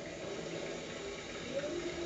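A toilet flush in the horror game Resident Evil 7, heard as a steady, even rush of running water that holds at a moderate level for about two seconds without letting up.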